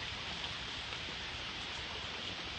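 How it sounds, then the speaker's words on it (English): Rain falling during a thunderstorm, a dense, steady wash of hiss with no breaks, fairly quiet and alone, with no thunder evident. "it's kind of waterproof and it's raining."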